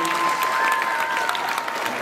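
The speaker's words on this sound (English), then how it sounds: "Can we give the Lord a mighty clap of praise?" Church congregation clapping in praise during a sermon service, a steady wash of applause at moderate level with a faint voice or tone held underneath.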